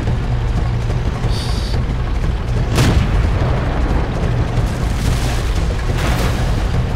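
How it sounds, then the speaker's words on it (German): Artillery shells exploding in the PC tank game World of Tanks: a steady wash of low rumbling battle noise with a couple of sharper bursts standing out, loud and continuous, with no talk. "Knallt die Arti schon rein."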